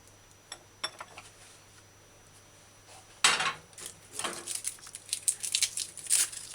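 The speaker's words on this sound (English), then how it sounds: "the flat part of the carrot on a flat surface like a chopping board, and then I cut strips, carrot sticks, small little carrot sticks." A knife cuts a carrot into small sticks on a chopping board, giving scattered light taps and then a denser run of crisp chops and scrapes in a home kitchen.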